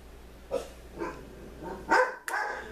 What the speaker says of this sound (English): I wonder who they were barking at